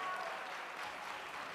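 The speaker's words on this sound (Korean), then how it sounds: "여러분들 박수 한 번 더 쳐주세요" An audience at a bodybuilding competition claps in a continuous, fairly faint patter of many hands, steady and even across the short stretch with no clear voices.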